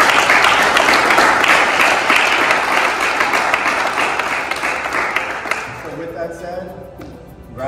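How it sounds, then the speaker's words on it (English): Full room applause for incoming and graduating student council members at a Catholic school ceremony, dense clapping that gradually fades out, after which a voice begins to speak. "So I'd like to give everybody a round of applause."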